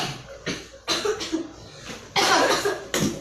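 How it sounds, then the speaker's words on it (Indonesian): Several short bursts of coughing, close and fairly loud, spaced irregularly with brief pauses between them. "ayo batuk-batuk, minum dulu"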